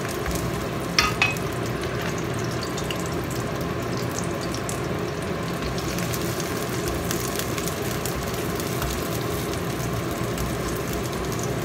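Taiwanese flatbread fries in oil with a loud, steady, close sizzle throughout, broken by a couple of brief clinks near the start, and no voices.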